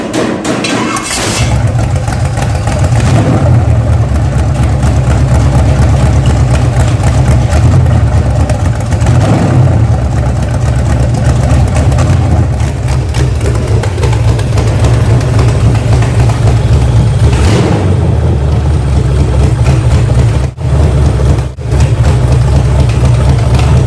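An old V8 car engine idling loudly up close with a deep, steady, lumpy rumble and brief throttle blips that swell the sound, continuous throughout with no talking.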